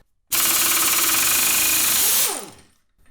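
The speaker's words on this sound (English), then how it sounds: "Only way to do it is with a big 1/2 inch impact" A 1/2 inch pneumatic impact wrench with a short socket hammers on a 24 mm engine bolt at high air pressure during a Chevelle LS engine teardown, one loud, close, rapid rattling burst of about two seconds that winds down as the air cuts off.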